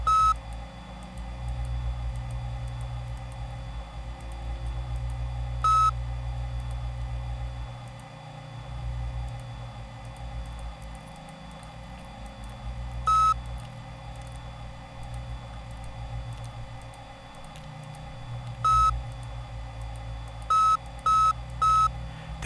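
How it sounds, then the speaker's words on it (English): In the video game AMBER Journeys Beyond, a tile puzzle gives short electronic beeps, a single one now and then and a quick run of three near the end, sounding clearly over a low droning ambience without speech. "The beep just means it won't go any higher."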